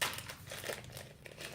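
Plastic wrapper of Japanese candy crinkles and crackles continuously up close as it is pulled open, a dense rustling texture with no talking.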